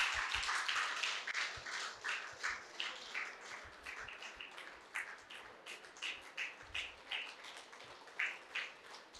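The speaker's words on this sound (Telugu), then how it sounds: "గట్టిగా చప్పట్లు." An audience at a two-day musical meditation gathering of the Mahavathar Foundation claps, with distinct individual claps landing in a loose, uneven rhythm at moderate volume and no talk over them.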